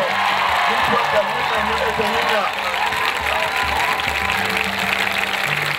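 A church congregation breaks into sustained applause and cheering, a dense wash of clapping with whoops scattered through it, steady and full throughout, with voices mixed underneath.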